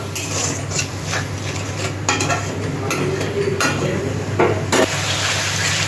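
Spice masala fries in a pan with a soft sizzle, while a spoon stirs and scrapes against the metal in a few sharp clinks, heard close up without any voices.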